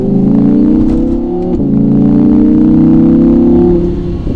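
A 2017 Audi R8 Spyder's naturally aspirated V10 screams loudly and close as it's held in gear, the pitch climbing smoothly through a long pull with a brief break midway.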